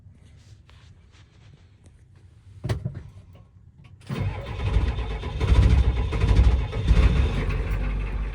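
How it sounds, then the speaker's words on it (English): A 1992 Ford F350 firetruck with an IDI diesel engine cranks weakly with a brief sputter, then catches and roars into a loud, rough, rumbling idle that holds steady close by. "like any good IDI truck, it took a few tries, but once it's turned over, it is good to go forever."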